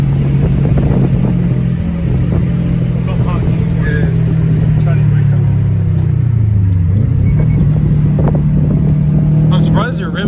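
A car with a Cobb Accessport fitted roars loudly under full throttle, a continuous close engine drone that rises and briefly dips in pitch as the driver floors it, with voices inside the car.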